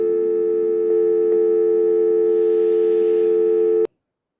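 A steady, loud electronic telephone tone holds a constant pitch for nearly four seconds, with faint hiss creeping in near the end, then cuts off abruptly into silence.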